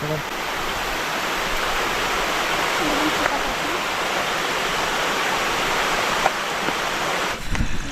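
Steady rushing water fills the scene with a constant broadband roar of a river flowing close by at night in Konkan, with a few faint knocks near the end.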